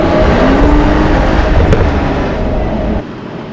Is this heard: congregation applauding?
no